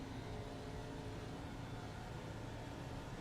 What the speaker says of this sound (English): This is what iRacing looks like when the motor is broke.